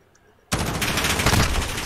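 Sustained automatic gunfire from a competitive video game match, bursting in abruptly and continuing as a loud dense rattle of rapid shots, with no talk over it.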